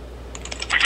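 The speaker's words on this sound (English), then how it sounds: "Now I just hear a bunch of typing." Computer keyboard typing heard over a live phone call during an FBI negotiation: quick, irregular key clicks, soft at first and growing louder and denser toward the end.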